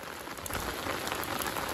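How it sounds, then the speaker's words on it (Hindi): Steady rain pours down, a dense continuous hiss of drops striking a surface close by, with no voices. "देखो भाई बारिश हो रही है"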